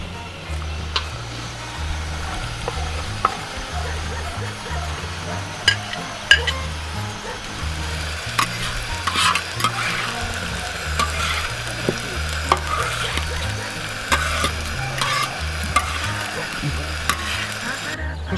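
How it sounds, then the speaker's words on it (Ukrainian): Steady sizzling of onions frying in a pan, with repeated scraping and clinking of a utensil stirring through them, close by, with no talk. "Беремо цибулю і закидаємо жаримо вже її"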